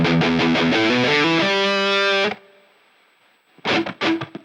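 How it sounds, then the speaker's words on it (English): An electric guitar played through a 2024 pedalboard with distortion and a room reverb, a fast run of notes swelling into a sustained chord that cuts off, then two short distorted chord stabs after a quiet gap. "And I've also got a room reverb in here."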